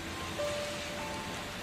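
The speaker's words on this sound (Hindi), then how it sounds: "फिर अगले दिन तक भी बारिश रुकने का नाम नहीं लेती।" Heavy monsoon downpour over a village and its farm fields, a dense, steady hiss of rain that stays loud and even throughout.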